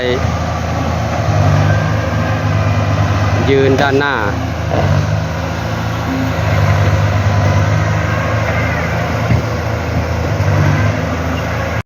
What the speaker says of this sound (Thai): ตอนนี้รถไถ ก็กำลังที่จะ เคลียร์พื้นที่